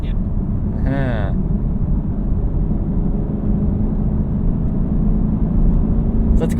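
A 2019 Chevrolet Camaro SS 1LE runs with its exhaust valves closed in stealth mode, giving a muted, steady low rumble. A brief voice sounds over it early on.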